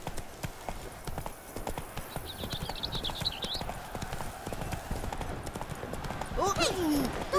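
A horse in The Witcher 3: Blood and Wine trots with a steady, close clip-clop of hooves over continuous game ambience, and a brief whinny-like cry rises near the end.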